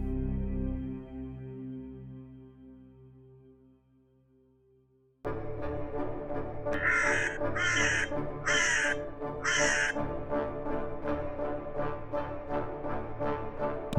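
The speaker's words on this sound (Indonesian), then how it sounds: "Bagi manusia, gagak selalu lebih dari sekedar burung." A crow caws in a run of four loud, evenly spaced harsh calls, set over steady outdoor background noise that follows a soft fading musical tone.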